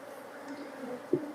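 Honeybees buzz steadily around a hive being smoked while colonies are merged, a low continuous hum with a brief louder thump near the end and no talking.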